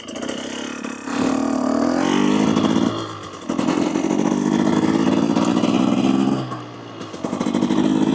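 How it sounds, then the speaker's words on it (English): A 2024 Husqvarna TE250 dirt bike engine runs loud and close, swelling through sustained revving passes separated by brief dips back toward idle, with no talking over it. "Let's see how that idle is."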